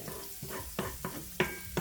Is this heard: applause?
no